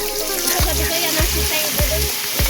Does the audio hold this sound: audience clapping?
no